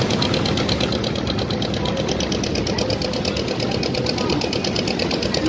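A motor boat engine runs on a river near the India–Bangladesh border, a loud, steady chugging drone that carries on close by without a break.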